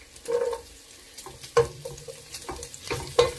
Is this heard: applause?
no